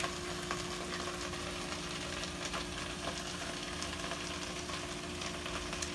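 Food frying in a pan on a stovetop while being stirred, a continuous soft sizzle with occasional scraping, steady and fairly quiet, with a low hum in the background.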